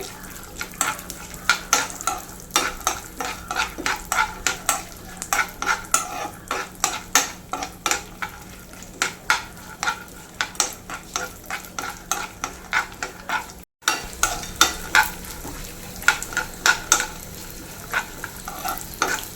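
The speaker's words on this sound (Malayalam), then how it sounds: "കപ്പലണ്ടിയും മുന്തിരി ഫ്രൈ ആയിട്ടുണ്ട്" Peanuts and raisins fried in a pan, with a constant sizzle under repeated sharp scrapes and clinks of a utensil against the pan at an uneven pace, close and alone with no voices.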